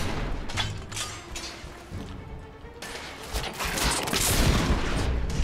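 Gunfire aimed at the player in The Order 1886 video game, a rough, mechanical burst of shots and impacts that swells louder toward the end, with crashes and creaks mixed in.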